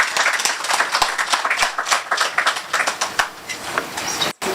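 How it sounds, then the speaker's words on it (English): An outdoor audience at the public unveiling of the Carriacou underwater sculptures breaks into lively, dense applause, with many close, sharp hand claps overlapping and continuing for several seconds before fading. "So let us give them a round of applause as they come to share with you."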